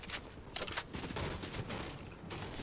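Hyper SMG gunfire in Fortnite Battle Royale rattles in rapid bursts of dense shots, fairly faint and continuous over the short stretch with no voices.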